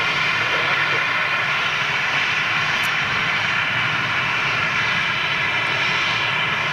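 Old-livery KLM Royal Dutch Airlines Boeing 737 at Manchester Airport, a steady, loud, unbroken engine roar filling the whole stretch with a broad hiss on top, heard alone without talk.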